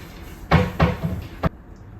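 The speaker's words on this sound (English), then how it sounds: "it's not covering anything because they're scratching the door" A cat scratches at the door of a litter box cabinet, giving three short, sharp scraping thumps close by, two in quick succession and a third a moment later, then quiet.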